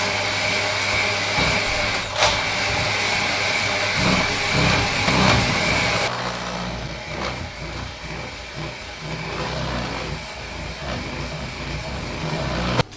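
Chocolate cake batter being whisked hard to beat in air, probably with an electric mixer: a loud, continuous motor whine that drops slightly in pitch and level halfway through and carries on steadily to the end.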